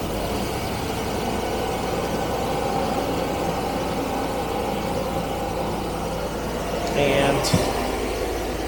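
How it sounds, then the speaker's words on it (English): Jaguar V12 engine idling rough and running on only some cylinders, a steady loud uneven rumble with a brief sputtering backfire through the carburettor near the end, and a voice speaking over it. "You see it's backfiring as well through some carb."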